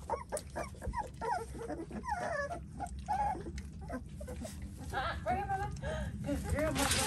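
Pit bull puppies whimper and yip in repeated high, wavering cries, close by, mixed with talking voices throughout.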